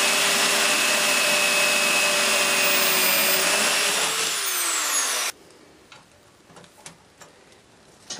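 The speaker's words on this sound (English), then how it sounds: "We're going to drill the holes and fasten her down." A power drill whines loudly and steadily for about five seconds while drilling holes in a lawn tractor gas pedal, its pitch dropping slightly before it stops, followed by quiet clicks and taps.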